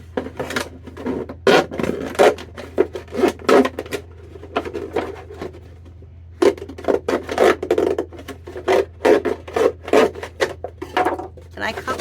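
Plastic bottles being cut open with a blade for winter sowing, giving repeated scraping, rasping cuts in bursts with a short pause in the middle, close and fairly loud.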